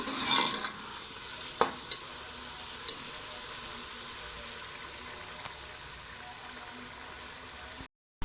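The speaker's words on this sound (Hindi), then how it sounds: "अब हम इसके अंदर डाल देंगे लोबिया को शामिल कर देंगे जिसको हमने फ्राई किया था" Fried white beans (lobia) are stirred into a sizzling masala in a pan, with a steady fry hiss and a few sharp spoon clinks against the pot.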